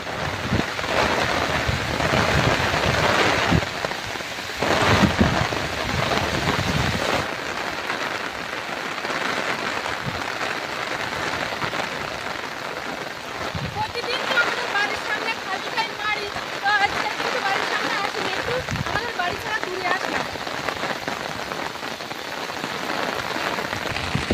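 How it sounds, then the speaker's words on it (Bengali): Heavy rain pours steadily on a Sundarbans village around flooded ponds, a dense hiss with occasional low rumbling, while people talk over it. "মেঘ ডাকছে দেখো আবার"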